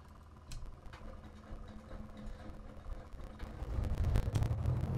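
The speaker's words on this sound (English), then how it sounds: "engine is on" A single-prop aircraft engine in Microsoft Flight Simulator runs up and settles into a steady, moderately loud low drone after a few soft clicks, growing fuller and louder over the last second.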